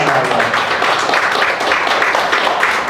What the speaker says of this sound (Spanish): Denle un aplauso a Dios por su palabra